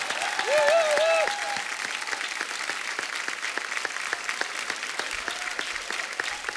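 Studio audience on a Kapil Sharma Show set breaks into applause for the show's team, a dense steady wash of clapping lasting the whole stretch, with a brief vocal whoop near the start.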